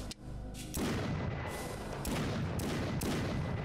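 A Magnum revolver firing in the classic-style FPS game Brutal State: one heavy, loud boom near the start with a long rumbling tail, then more booming shots and blasts through the rest of the clip.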